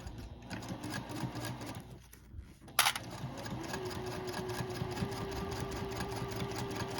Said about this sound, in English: Couple stitches. Then we're going to back stitch.